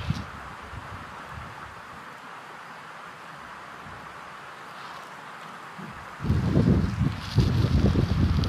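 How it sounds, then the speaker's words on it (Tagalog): Steady broadband wind roars throughout at a riverside, then gusts harder near the end with heavy buffeting rumble against the microphone. "Malakas ang hangin."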